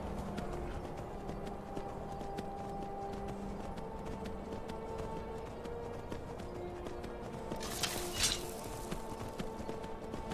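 Steady galloping horse hoofbeats in Skyrim run throughout over a constant low ambient hum, with a brief brighter clatter near the end.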